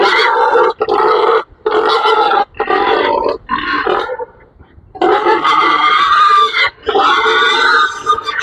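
Loud, repeated grunts from a pregnant sow in bursts with short pauses between them, close by and harsh, with no talking.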